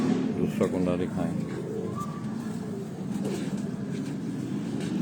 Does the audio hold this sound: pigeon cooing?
yes